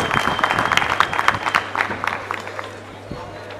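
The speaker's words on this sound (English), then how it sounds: "A big applause, please," Graduation ceremony crowd at a college of education giving a big round of applause, dense clapping that starts loud and gradually thins and fades, with some murmuring voices mixed in.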